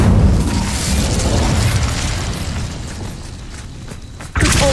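An Incendio fire spell in a wizarding video game erupts in a loud, roaring burst of flame that fills the moment, then thins out before a sharp new impact near the end.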